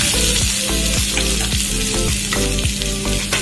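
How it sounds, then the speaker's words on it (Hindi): Onions hitting hot oil in a pan while cooking chana dal tadka, giving a loud, dense sizzle with rhythmic scraping strokes about every half second, close and alone without voices. "अब हम इसमें प्याज ऐड करेंगे"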